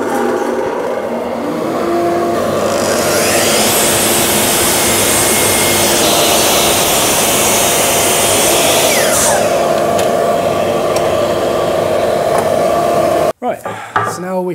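A loud power tool cuts a wooden timber blank for a custom bass guitar body, roaring steadily for about thirteen seconds before cutting off abruptly.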